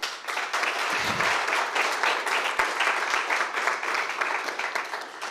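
An audience at a public talk on art and historical memory applauds two guests, a steady, even wash of clapping lasting throughout and easing off slightly at the end.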